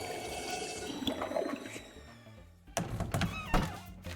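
A shattered, broken toilet flushes in the Shadows Over Loathing video game, a harsh, ugly gurgle of rushing water with thunking knocks that dips mid-way and then surges back loudly, with no talking.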